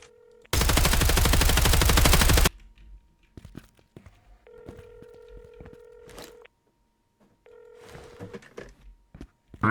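A telephone rings during a tactical emergency-response exercise at an abandoned site, with tones repeating in spaced bursts between sharp clicks and knocks, following a loud harsh burst near the start.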